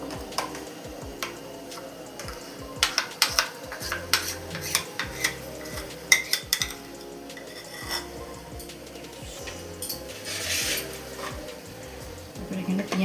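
A spoon stirs mustard and poppy seed paste in a bowl, with irregular clinks and scrapes against the bowl close by and a voice talking in the background.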